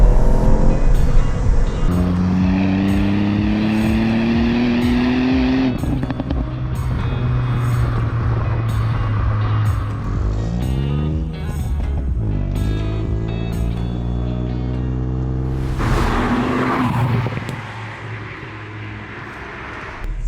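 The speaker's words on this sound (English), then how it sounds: "seems like a good time to talk to you about the exhaust noise" A Ford Fiesta ST with the Mountune M225 package drones loudly while driving, its exhaust rising and falling through several gear changes with climbing rev sweeps, heard from inside the car.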